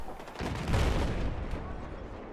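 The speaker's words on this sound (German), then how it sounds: "No, Granate." A grenade goes off in DayZ Standalone, a heavy, close blast with a deep rumbling low end that swells and then trails off into a sustained roar over roughly two seconds.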